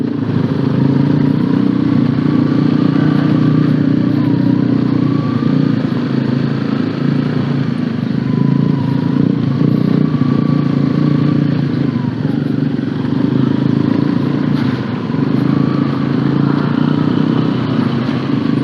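An older Honda CBR motorcycle ridden over a rough, broken concrete road under repair, its engine droning loud and steady with rattling and clatter from the bumps.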